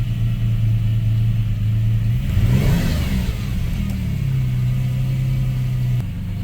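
A Pontiac G6 engine running in neutral with a rough idle, rising into a quick rev around the middle before settling back to a steady, fairly loud idle; no one speaks.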